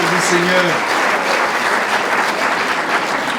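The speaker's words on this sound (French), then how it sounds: "Alors on l'applaudit celui-là aussi." Applause from a church congregation during a joyful worship gathering, steady dense clapping filling the space, with a voice briefly heard over it at the start.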